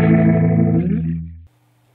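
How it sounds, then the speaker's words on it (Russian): Electric guitar chord played through a Leslie rotating speaker effect, swirling and warbling as it sustains and fades over about a second and a half before cutting off into near silence. "Эффект Лесли или колонка Лесли использует сигнал из двух колонок, при этом они вращаются."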